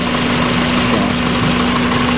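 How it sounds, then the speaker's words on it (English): A Mazda Miata engine idles steadily while warming up during base idle and timing adjustment, giving a loud, constant low rumble with a faint hum running underneath and no talking. "We've got to let the engine warm up a bit"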